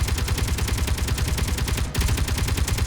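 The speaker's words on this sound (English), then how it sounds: "I can see the gun that was shooting at me." Rapid automatic gunfire from a turret in the Space Engineers video game, a loud, dense stream of evenly spaced shots with a brief dip partway through.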